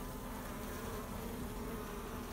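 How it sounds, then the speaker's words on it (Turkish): Honeybees hum at a hive fitted with a queen cage, a steady, dense buzzing drone with no voices over it. "Yani yarım çıta falan arı bu."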